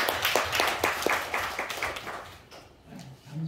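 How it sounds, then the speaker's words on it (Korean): Audience clapping at a district office village teacher training session in Gangbuk-gu, Seoul, a run of sharp claps in a steady rhythm for a few seconds that thins out toward the end, with no talk over it. "우리 또 강북구청 관계자께 박수 좀 주세요."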